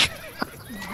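A horse in a video game gives a short, loud whinny, with a quick thump and rising vocal tones, all under a second long.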